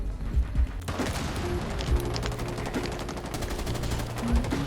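Rapid automatic gunfire in Rainbow Six Siege as shots go through walls, a dense run of sharp, loud cracks with mechanical clatter, repeating steadily over several seconds.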